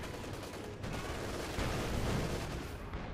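Panther tank machine-gun fire in Company of Heroes 2, a dense, continuous rattle of gunfire blended with distant battlefield rumble, moderately loud and unbroken throughout.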